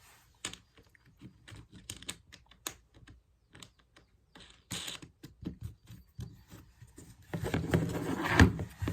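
Screws being tightened on a wooden flower press, giving irregular small clicks and creaks in bursts, with a denser, louder grinding stretch toward the end.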